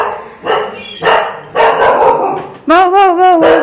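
A dog barks several times close by, loud sharp barks in bursts, ending in a drawn-out whining yelp at a relative's house.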